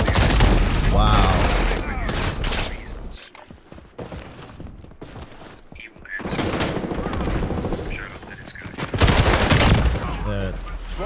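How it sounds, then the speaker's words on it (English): Heavy automatic gunfire in Modern Warfare multiplayer rattles loud and close in dense bursts. The shooting thins out in the middle and then surges again, with a few booms mixed in and a player talking over it. "Enemy fire on me!"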